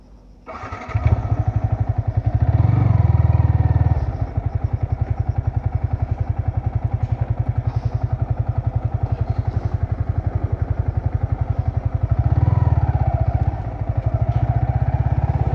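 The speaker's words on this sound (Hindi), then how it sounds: "चलिए अभी जाते हैं इस बाइक को चलाने के लिए" A modified Yamaha R15 V3 motorcycle with a stock exhaust is ridden, its engine note loud and close, with a rapid pulsing beat that surges in revs near the start and again toward the end.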